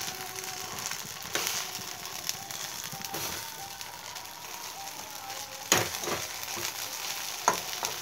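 Rolled little finger snacks fry in a pan, giving a steady close sizzle broken by a few sharp scraping clicks of a spatula, with no talk.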